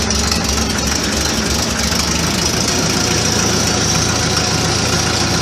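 An Allis Chalmers D17 tractor engine idles loudly and steadily with a rough, knocking mechanical chug, close by and uninterrupted.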